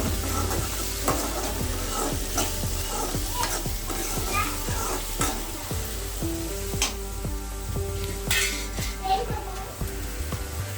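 Aval upma masala being sautéed with turmeric powder in a pan, a steady sizzle under repeated scraping and stirring strokes of a spoon, close and continuous.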